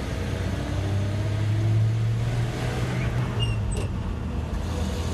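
A 1966 Dodge D200 3/4-ton Sweptline pickup pulls away in first gear, its engine giving a steady, loud rumbling drone heard from inside the cab, with no talk.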